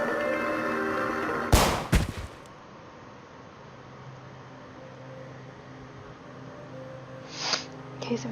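A single loud, close gunshot cracks out in the game Peridium, followed by a short echo and then quiet ambience with a faint later thump.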